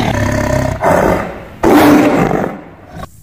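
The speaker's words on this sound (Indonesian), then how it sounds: "sekalinya mereka mengaum, aumannya dapat terdengar hingga jarak 3 km" A tiger gives two loud, close roars in a row, each a deep, rasping bellow that swells and then fades, followed by a short quieter tail.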